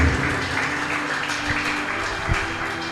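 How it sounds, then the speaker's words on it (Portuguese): A church congregation at an evangelical service claps together, a sustained moderate wash of applause with low hum and occasional thumps beneath it. "Aplauda o Senhor"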